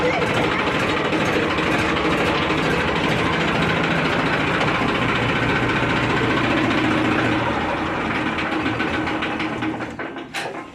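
A farm tractor engine runs loud and close with a steady, rough, knocking drone that eases off near the end, while voices talk faintly beneath it.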